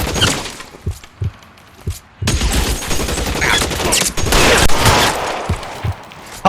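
Video game gunfire from L.A. Noire: loud, close shots crack out in scattered single reports, then break into a dense, sustained volley of rapid fire.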